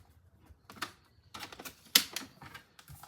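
A paper trimmer slices cardstock for a card front in a few short, crisp strokes, with light clicks and one sharp, loud snap near the middle and quieter handling sounds around it.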